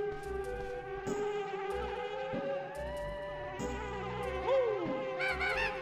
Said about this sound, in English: Come here, bee.